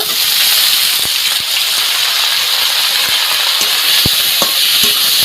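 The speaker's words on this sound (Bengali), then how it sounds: "দিয়ে একটু নাড়াচাড়া করে আমি শাকটা ভেজে নেব" Boiled bathua greens sizzle steadily in hot oil with browned onions while a utensil stirs them, bringing occasional sharp clinks against the pan. No voices, just close kitchen frying.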